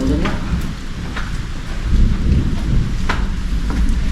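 Steady, heavy rain pouring outside Calinawan Cave, a dense close hiss with occasional louder splashes and no voices throughout.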